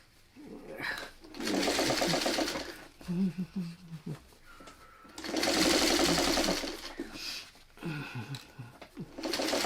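A sewing machine stitches curved seams on a quilt block in three long, steady whirring runs separated by pauses, with someone talking quietly between the bursts.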